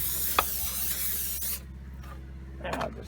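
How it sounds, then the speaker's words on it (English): A steady, loud hiss of aerosol cleaner sprayed from a can onto a car engine with a vacuum leak, lasting about a second and a half, then quiet room tone with some faint handling noise. "I don't want to spray this in the garage"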